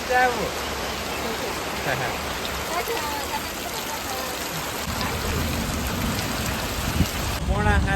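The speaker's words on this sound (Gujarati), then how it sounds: "વરસાદ છે ને હજુ ધીમો ધીમો ધીમો ધીમો આવે છે" Steady light rain, the first of the season, patters on surfaces nearby in a village, a soft continuous hiss with occasional louder drops, and brief voices in the background.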